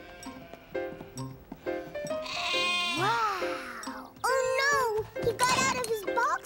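A small sheep bleats repeatedly in a cartoon scene, with wavering cries close by, mixed with children's and adults' voices talking around them.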